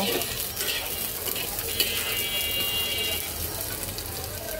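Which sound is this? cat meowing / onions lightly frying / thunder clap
onions lightly frying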